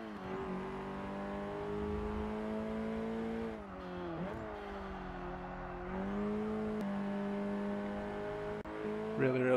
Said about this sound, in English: this is the Volkswagen WRX Golf here